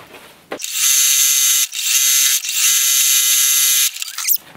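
An electric sewing machine stitches a homemade Harley Quinn confetti jacket, its motor whining loudly in three bursts with short pauses between, close up and with no voices.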